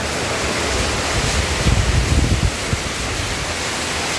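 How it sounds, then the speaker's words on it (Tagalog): Heavy pouring rain with wind in Daet, a dense steady roar that swells briefly midway, loud and close throughout with no voices. "yung buhos ng ulan, lakas."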